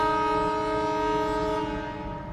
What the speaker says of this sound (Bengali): সঠিক সময়ে ঢাকার কমলাপুর স্টেশন থেকে ডিপার্চার নিচ্ছে আমাদের আন্তনগর